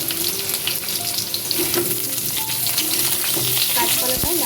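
Diced raw banana fries in hot mustard oil after potatoes, giving a steady close sizzle with scattered pops and occasional stirring scrapes, ending with a sharper clatter.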